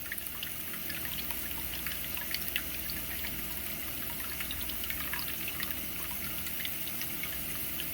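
Soy sauce poured from a full bottle into a cooking pan, a faint continuous trickle with scattered small drips and splashes, quiet and steady with no talking.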